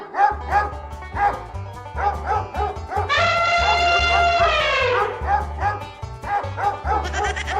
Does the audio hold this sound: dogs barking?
yes